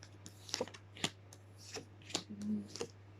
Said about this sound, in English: I'll just cut the deck now and see what cards come out